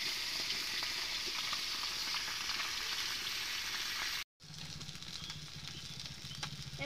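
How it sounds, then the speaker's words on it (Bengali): Bata fish fries in oil over low heat, making a steady close sizzle that drops out for a moment, then returns a little softer, with no talking. "অল্প আঁচে আমি ভাজে নেব।"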